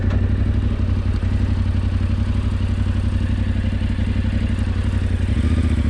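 Yamaha Tenere 700 adventure touring motorcycle engine running steadily, a close, continuous low mechanical drone with light clatter, alone without talk.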